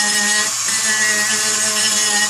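A power sander works on a paintball marker receiver half for an HK G3 style Tippmann A5 build, giving a loud, continuous close whine and buzz with a steady hum underneath.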